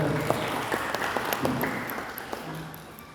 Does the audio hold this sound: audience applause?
yes